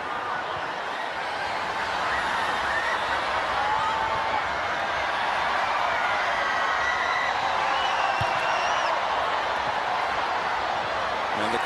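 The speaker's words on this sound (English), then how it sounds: "the crowd is woken up by that goal" A stadium crowd at a women's football match between Holland and the USA roars in a broad, steady wash of cheering that holds at an even level for the whole stretch, with faint whistles and calls mixed in.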